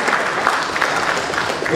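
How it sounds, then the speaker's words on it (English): Brief burst of audience applause for actor Ravichandran at a stage event, crowd clapping heard together with a voice speaking over it. "Please give a huge round of applause to Ravichandran sir"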